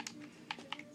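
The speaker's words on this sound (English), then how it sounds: "If you can see me typing in the numbers" Fingers tapping numbers on a number keypad give quick, light clicks, a handful of close keystrokes in an uneven rhythm, quiet and alone.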